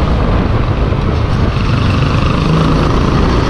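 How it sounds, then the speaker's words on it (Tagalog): Motorcycle engine fitted with a silencer and a sardine bracket, running steadily and close by in the open along the road toward Tagaytay, a continuous low rumble with no talk. "Ganda rin yung motor niya oh."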